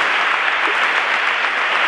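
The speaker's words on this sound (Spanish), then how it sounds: "cómo aplauden todos los falleros" Falleros applaud at the Valencia Fallas 2012 Fallera Mayor announcement, a dense, steady roar of clapping from a large crowd filling the space with no pause.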